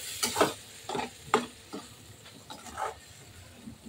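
Potatoes with onion, ginger and garlic sautéed in a pan, a series of separate scraping stirs roughly every half second over a soft sizzle, near and fairly quiet, no voices.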